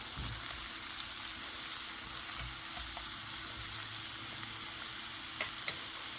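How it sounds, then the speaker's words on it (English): Quiche filling ingredients sauté in a pan with a constant close, hissing sizzle and occasional faint stirring scrapes, with no voices. "we just want to cook these just a little bit, just saute them a little bit, get all the flavoring on them."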